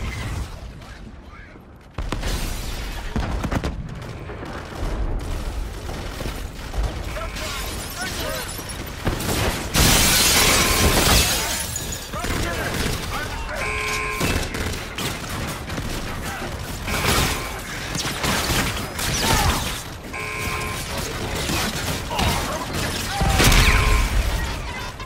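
Aircraft gun run in Call of Duty Infinite Warfare on PlayStation 4, with sustained loud mechanical firing and heavy rumbling impacts mixed with radio chatter and game effects, a strong burst near the middle.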